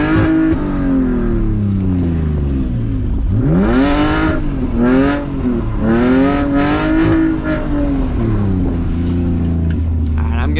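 BMW E46 drift car with headers revs loudly through third gear while sliding on a wet road, engine pitch rising and falling in repeated sweeps, with someone talking over it.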